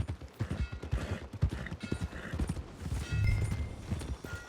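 Horse hooves clip-clop in an uneven walking rhythm in Red Dead Redemption 2, close and fairly loud, with a brief snort or whinny near the end and no talk.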